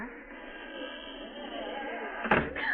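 In a vintage radio drama, a door is shut with a single sharp thud near the end, following a stretch of muffled, narrow-band room tone.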